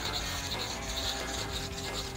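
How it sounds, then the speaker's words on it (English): Hand sanding over a car body panel to scuff away masking lines before paint, a steady close rasping rub that runs continuously without pause. "I'm just scuffing those off and any imperfections before I move on"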